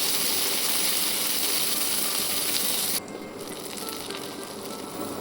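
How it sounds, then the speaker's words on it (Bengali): Loud, continuous sizzling of salted onions frying in mustard oil, which drops noticeably softer partway through and keeps hissing steadily to the end. "পেঁয়াজটাকে এবার আমি ভালো করে ভাজবো যতক্ষণ না লাল হচ্ছে"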